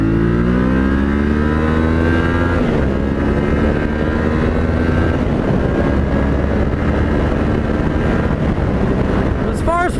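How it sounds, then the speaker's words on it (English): A Yamaha Ténéré 700 motorcycle accelerates hard up a freeway on-ramp, its engine note climbing through the gears with loud, steady wind buffeting over the microphone and a brief gear change partway through. "As far as first roll on, I mean, there's plenty of punch on this bike in order to get you up to freeway speed quickly."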